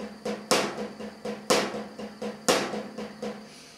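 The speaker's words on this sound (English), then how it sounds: "When we put accents in at the start, you get a loud stroke followed by 3 quiet strokes, which sounds like this." A drum pattern repeats three times, each cycle one loud accented stroke followed by three quiet tap strokes in an even, steady rhythm, played alone and close up.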